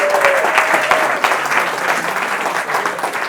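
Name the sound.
audience applause at a science lecture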